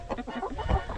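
Backyard hens in a snowstorm cluck close by in a quick, irregular series of short calls, with a low thump near the end.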